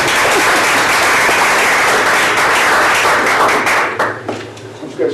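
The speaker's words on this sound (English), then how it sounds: "We can give her a round of applause" An audience at a school board meeting gives a long, loud round of applause for a board member, dense continuous clapping that thins out near the end as a few voices and scattered claps linger.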